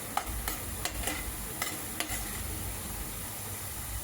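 A paste of onion, tomato, garlic and ginger fries for a curry under a constant low sizzle, broken by several sharp spatula taps and stirs in the first half, close-up with no voices.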